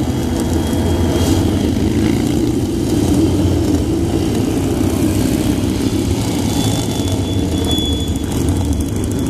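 Motorcycles of the Royal Signals White Helmets display team roar past at a show, a loud, continuous engine drone that swells slightly and stays heavy throughout, with no voices.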